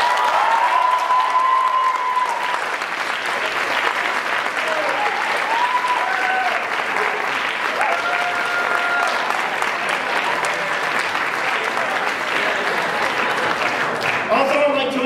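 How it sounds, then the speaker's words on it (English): Steady audience applause fills the whole stretch, dense and even, with a few brief whistle-like tones riding over the clapping. "clapping hand for our one act."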